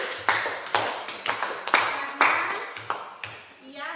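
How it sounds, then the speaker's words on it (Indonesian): Clapping for a student named Fajri during a group counseling session on time management: a dozen or so sharp, uneven claps over several seconds, loud and close, with some overlapping as if from several people, then fading out at the end. "mari kita berikan tepuk tangan kepada Fajri."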